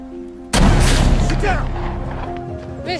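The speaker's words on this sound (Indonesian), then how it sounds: "melepaskan tembakan ke arah mereka" Gunfire in a film scene erupts as a sudden loud blast, followed by a dense, rumbling stretch of shots and crashes over a steady background hum.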